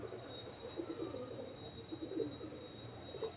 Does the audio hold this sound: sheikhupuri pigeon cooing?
yes